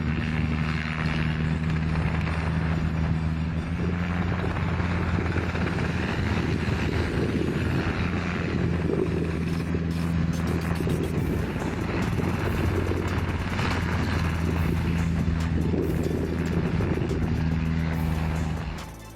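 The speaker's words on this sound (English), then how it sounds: "Sometimes you need a helicopter just to keep things under control." A helicopter flying over a ranch gives a continuous loud rotor drone and engine rumble with steady low tones, holding constant throughout with no talking.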